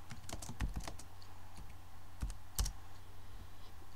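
Someone types on a computer keyboard during a programming session, with quiet, irregular keystroke clicks close by, some single and some in quick bursts.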